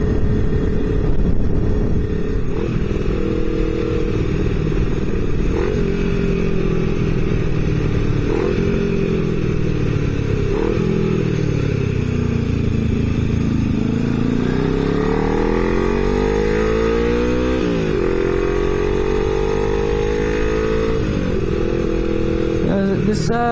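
A 1977 Yamaha XS500 motorcycle fitted with a smaller front sprocket runs throughout, its engine rising and falling through repeated revs and gear changes with a steady, loud, close rumble.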